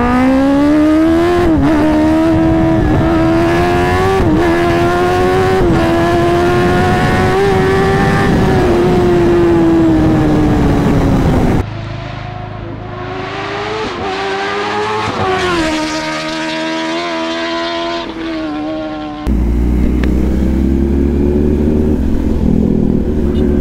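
A Kawasaki ZX-10R sport bike in race mode at full throttle, its engine screaming loud and close as the pitch climbs, then drops sharply at each gear change before rising again, with heavy wind rush throughout.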